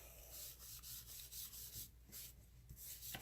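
An embossing buddy is rubbed over black cardstock in soft, quick back-and-forth strokes, a faint, close rubbing swish with no voice.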